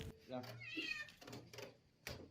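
A cat meows repeatedly after being pulled up in a bucket from a well, its cries close and clear, with a reporter's voice talking over and between them.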